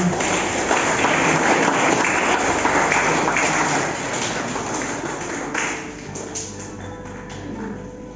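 Dense clapping from guests at a wedding reception, loud and continuous at first, then thinning toward the end with a few distinct taps and thuds.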